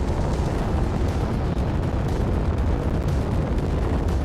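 Torpedo blasts in Space Engineers, a dense continuous rumbling roar of explosions, loud and steady without a break.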